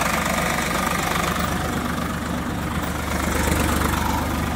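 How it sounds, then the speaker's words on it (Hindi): A new 2024 Swaraj 855 4x4 tractor pulls a 13-tine cultivator through a field, its diesel engine laboring in a loud, steady, knocking drone that holds for the whole stretch without talk. "4x4 होने की वजह से ट्रैक्टर पूरी ताकत लगाता है।"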